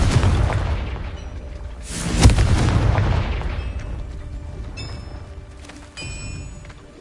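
Explosion from the Confringo blasting spell in a Harry Potter video game, a loud booming burst with a long rumbling tail that fades over several seconds, followed by a lighter secondary thump.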